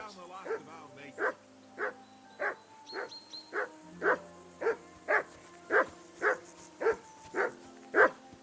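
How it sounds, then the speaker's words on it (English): A dog barks over and over in Kingdom Come: Deliverance 2, a medieval role-playing game, giving roughly a dozen evenly spaced, loud barks close by over a low steady background hum. "you can hear that damn dog of yours barking."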